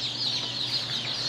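Chickens and day-old chicks on a farm in Cebu cluck and peep steadily, a busy, close flock chattering continuously with no talking over it.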